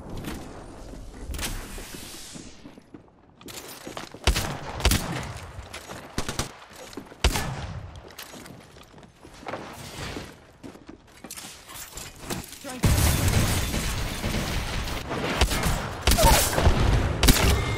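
Flatline rifle fire in a first-person shooter game comes in rapid bursts and fusillades, loud and sharp, separated by quieter gaps and ending in sustained heavy shooting.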